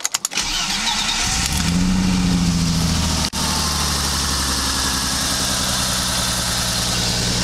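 A BMW M20 engine with a suspected head gasket, piston or ring fault starts up and settles into a loud, rough, lumpy idle that keeps up steadily, close by and without talk.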